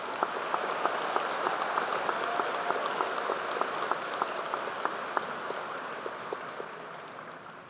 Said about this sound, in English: How about a round of applause for the Ross Band of Class and the Ross Choir?